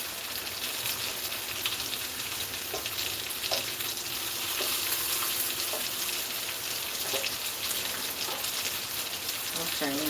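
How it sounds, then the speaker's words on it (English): Rain drums on an indoor oven fan during a severe thunderstorm, giving a steady, close hiss with scattered sharper taps throughout. "It's raining, I can hear it drumming on the"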